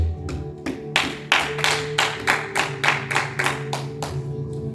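A church congregation claps in acclaim of the Lord Jesus, a steady run of about a dozen loud, evenly spaced hand claps over a low sustained hum, with no talking.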